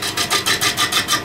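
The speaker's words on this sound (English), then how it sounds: "Hear that chattering noise when we hit an ear" Lathe tool chattering against an out-of-balance beech salad bowl on a VB36 lathe, a rapid rasping judder pulsing about six times a second, close and fairly loud.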